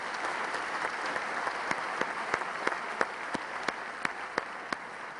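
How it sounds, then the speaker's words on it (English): Applause from a debate audience thanking two debaters: steady, sustained crowd clapping with a few sharper nearby claps standing out, no voices. "Please join me in applause for the two debaters."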